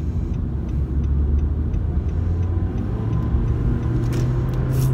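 A rental car's engine drones in a steady, loud low rumble as it accelerates, with a faint rattle above and no talking.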